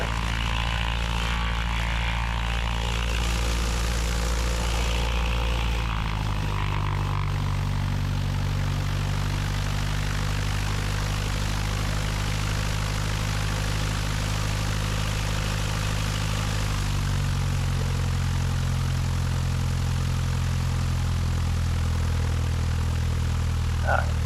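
A Cessna 172 propeller aircraft taxis with a steady engine drone and propeller hum that steps up and down in pitch a few times as power changes, close and continuous.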